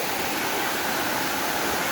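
Caunayan Falls pours in a steady, dense rush of falling water, even and continuous, with no voices over it.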